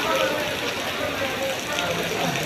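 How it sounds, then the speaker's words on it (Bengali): Torrential rain pours down at the Gabtoli bus terminal, a dense, unbroken wash of hissing noise, with a voice talking over it. "মুষলধারে বৃষ্টি।"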